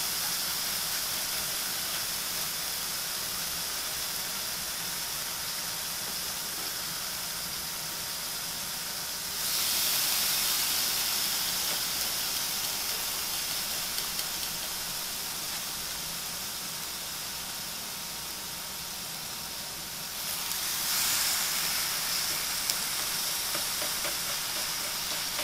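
Boneless, skinless chicken for guava chicken sizzles steadily on a hot grill, a loud, continuous hiss. It briefly swells twice as more pieces are laid down. No one speaks.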